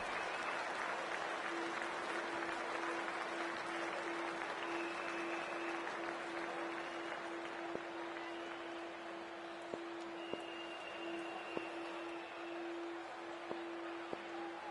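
Large cricket stadium crowd at an India versus New Zealand one-day international, a steady broad wash of applause and crowd noise with a faint sustained tone, scattered sharp claps and knocks near the end, no voices standing out.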